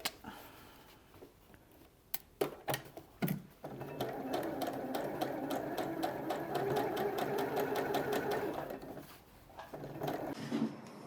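A sewing machine stitches around a pocket bag, starting with a few sharp clicks and knocks of setup, then a steady close mechanical whirr running several seconds before slowing to a stop with a final tap.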